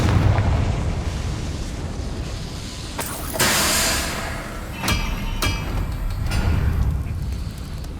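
Confringo spell explosions in Hogwarts Legacy, several sharp blasts and bursts with rumbling eruptions in between, loud and close against a noisy battle backdrop.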